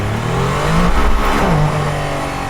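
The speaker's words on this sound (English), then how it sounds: "Let's feel the acceleration when I floor it." A Mercedes-AMG ONE hypercar accelerates at full throttle on the Nürburgring, its engine roaring loud and close with a steady, rising drone that holds for the whole stretch.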